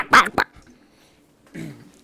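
Person imitating a dog bark: two quick, sharp vocal yaps, then a pause and a softer, longer whine-like vocal sound.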